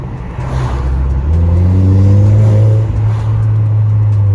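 A modified Volkswagen Golf R engine revs up loud and close, its deep exhaust drone climbing in pitch with rising harmonics, then holding at a steady, rowdy idle-like rumble.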